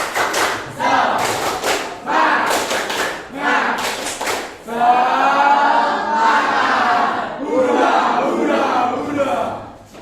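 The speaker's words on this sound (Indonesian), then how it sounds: "Dan tepuk semangat." A classroom group performs tepuk semangat, sharp rhythmic bursts of unison clapping followed by a loud shouted group chant, then more claps and chanting, close and energetic.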